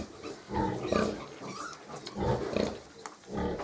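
Several week-old piglets squeal and grunt in short, repeated bursts at close range on a small pig farm.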